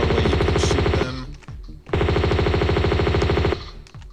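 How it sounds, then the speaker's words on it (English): A machine gun fires in Tomb Raider 2 in two long, loud, rapid bursts separated by a short pause, steady and dense, with no talking. "Remember, the machine gun outdistances all guns of the enemy"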